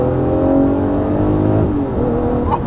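A loud Lamborghini engine revs hard to about 5,000 RPM and holds high, its pitch climbing and then easing off, with a steady roaring drone throughout.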